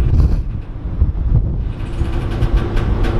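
Creaking ferry carrying a truck off the Côte d'Albâtre, a dense low mechanical rumble and groan with wind buffeting, steady and loud throughout with no talk.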